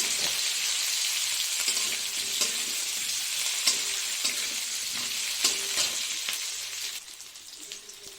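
Potato, onion and capsicum fry in a pan while being stirred, a steady hiss with rhythmic scraping strokes that eases off near the end.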